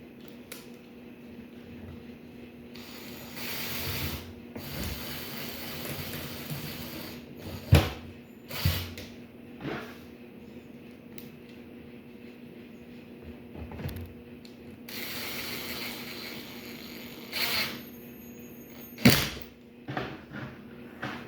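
Impact driver screwing a part back into a wooden door, heard as a few short, harsh bursts between quieter creaks, clicks and handling noises.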